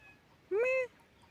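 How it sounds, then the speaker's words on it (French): A single short, clear cat meow rises and then holds briefly, close by, in an otherwise quiet setting. "c'est un chat qui parle"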